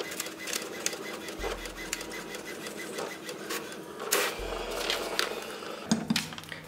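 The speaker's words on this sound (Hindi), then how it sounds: "चलो एक बार जो है इन तीनों नोटों का भी मतलब जेरोक्स निकाल के" A photocopier makes copies of Indian rupee banknotes, clicking and whirring mechanically with two low humming passes of the scanning motor, all moderately loud and close.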